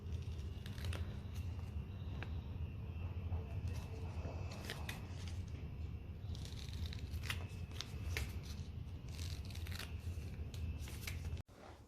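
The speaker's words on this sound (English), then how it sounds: "I'm going to round the edges with the scissors" Repeated crisp snips of scissors cutting kinesiology tape to round its edges, irregular and close up, over a low background hum, ending in a brief pause.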